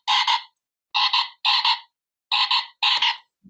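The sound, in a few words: frog croaking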